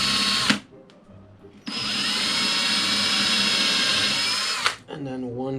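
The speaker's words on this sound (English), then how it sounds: "Just 1 drill hole towards the front." A power drill bores a hole in wood for a DIY festival jewelry display, whirring steadily and loudly for about three seconds after a short burst, then winding down.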